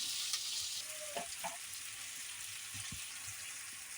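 Tomatoes cooking with turmeric powder in a pan give a faint, low hiss, with a few soft scrapes and taps of a spoon stirring them, no talking.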